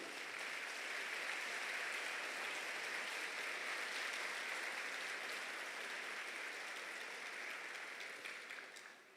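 An audience in a church applauds for about nine seconds, dense, steady clapping from many hands at a moderate distance that tapers off slightly at the end, with no voices over it.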